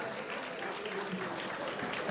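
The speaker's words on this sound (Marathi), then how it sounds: "या जोरदार टाळ्या सर्व" Audience applause at a state-level award ceremony, a dense wash of clapping from a crowd, moderately distant and steady for a couple of seconds.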